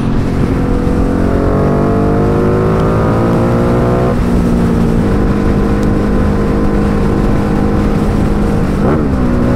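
A Ducati Diavel 1260 motorcycle accelerates on a motorway from about 80 km/h while merging into the left lane. Its loud, close engine note climbs steadily, drops at a gear change midway, then climbs again with a brief sharp rise near the end.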